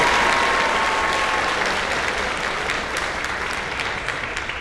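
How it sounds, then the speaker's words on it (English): A school auditorium audience at a high school academic awards night breaks into loud, sustained applause, dense rapid clapping from many hands that slowly eases off toward the end. "please hold your applause for the students on the first slide"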